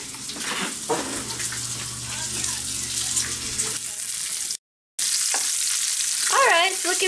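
Bacon frying in a pan for penne alla vodka, a steady loud sizzle with stirring clatter and a brief gap of silence, and voices talking over it near the end.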